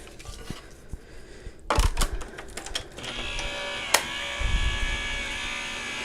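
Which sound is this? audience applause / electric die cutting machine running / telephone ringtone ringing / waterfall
electric die cutting machine running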